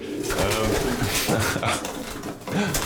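Racing pigeons coo softly in a low, repeated warble, with wings flapping and general bustle around them.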